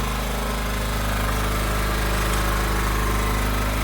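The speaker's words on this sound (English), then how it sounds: "compressor and the generator and the welder going" A compressor, a generator and a welder run together at a work site, making a loud, steady, dense mechanical drone with a constant low hum and no breaks or speech.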